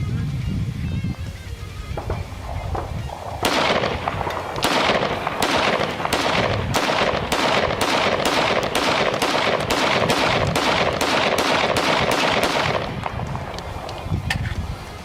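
Rapid volleys of sharp pistol shots from FN and Ruger 5.7 handguns, a dense run of loud cracks fired in quick succession outdoors, with wind noise between shots.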